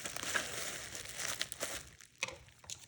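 Thin plastic packaging crinkles and crackles close by as it is pulled open in a quiet house. The rustling is soft and uneven, with a few sharper crinkles.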